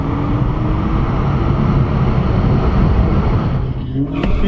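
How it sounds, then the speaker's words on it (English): A Dodge Charger roars on a hard drag strip launch, a loud sustained engine and tire wash with a sharp shift near the end, close and dominant. "it sounded like the Charger just hit it too hard on the launch"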